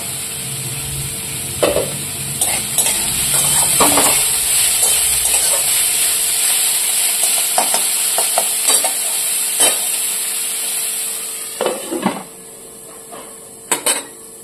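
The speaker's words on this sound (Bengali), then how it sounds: "এবারে এই পেঁয়াজগুলো ভাজার পরে" Salted onions frying in a pan and being stirred with a utensil: a steady sizzle runs throughout, broken by scattered scraping knocks and clinks against the pan.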